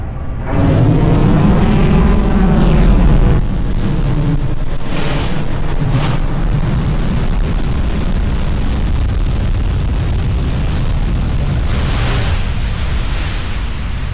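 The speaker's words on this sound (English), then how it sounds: "Ship landing startup. There's our landing burn." SpaceX Starship upper stage firing its engines for the landing burn: a loud, continuous roaring rumble that surges at startup and then holds steady for over ten seconds.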